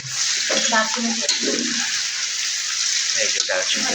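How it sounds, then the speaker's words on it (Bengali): Black and white cardamom pods frying in oil already used for frying, a bright continuous close-up sizzle with a voice speaking over it in short bursts. "যে তেলে ভাজা হয়েছে ওই তেলে এখন মশলাটা মানে কালো এলাচ সাদা এলাচ সব দিয়েছে"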